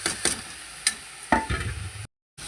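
Fried potatoes tipped into frying fenugreek greens in a pan, several sharp stirring scrapes over a steady close sizzle, cut by a brief gap near the end.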